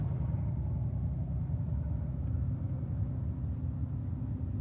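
An old Porsche Cayenne Hybrid idles with a misfiring engine, a low uneven throbbing rumble heard up close and continuous.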